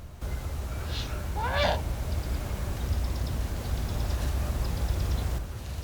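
A Eurasian eagle-owl at its nest gives a couple of short, harsh hooting calls close by, the second a rising, stuttering cry, over a steady low outdoor rumble with faint chirps in the background.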